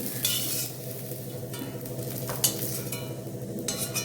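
Coriander leaves frying in a pan, with a continuous soft sizzle broken by repeated scraping stirs and light clinks of a utensil against the pan.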